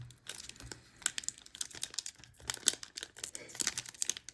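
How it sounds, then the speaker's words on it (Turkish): A foil card booster pack from the Riftbound Spiritforge set being torn open, with close, quiet crinkling and tearing in irregular bursts throughout. "Paketleri açacağım."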